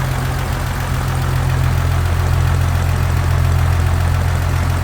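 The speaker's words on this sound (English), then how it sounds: "Smooth runner, just a little cold-blooded, let her warm up." A 1956 Willys Overland pickup's cold inline six-cylinder engine idles steadily and smoothly up close, a low even rumble with a faint rhythmic knock, no voices.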